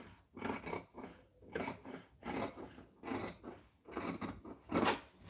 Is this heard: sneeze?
no